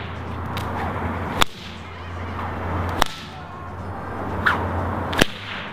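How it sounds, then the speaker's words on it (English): A five-foot cow whip cracks four times at uneven intervals, each snap sharp and loud with a brief whoosh before it, over quiet outdoor background. "Okay, 5-foot cow whip."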